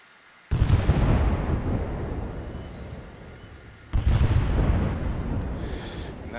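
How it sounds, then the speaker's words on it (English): Mortar shells from a video game slam into a village in two heavy blasts, each a sudden loud boom followed by a long rumbling decay, the second arriving a few seconds after the first. "So there's the village that I created, and I'm going to drop mortars on it."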